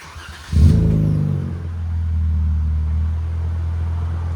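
A RAM 3.6L V6 truck with a Vibrant bottle resonator muffler revs briefly, then settles into a deep, steady rumbling idle through the exhaust.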